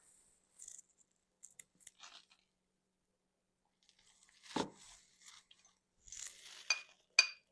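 Protein ice cream being scooped from a Ninja Creami pint, with sparse close scraping and crunchy scoops against the cup separated by quiet gaps, growing busier and sharper toward the end.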